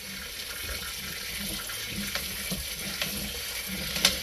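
Water runs steadily from a hose into a clogged toilet, a constant hissing wash with a few faint knocks and splashes, fairly quiet and without any voices.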